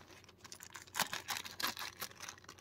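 Quiet, crisp snipping and crinkling as large scissors cut through plastic packaging of a Bandai figurine set, a few short cuts close by with no talking.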